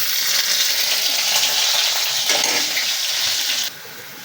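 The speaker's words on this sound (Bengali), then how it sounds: "তেল গরম হলে আমি পেঁয়াজ রসুন দিয়ে দিলাম।" Onion and garlic frying in hot oil for a Bengali curry, a steady loud sizzle that runs for several seconds and then drops abruptly to a quieter level near the end, with no talking.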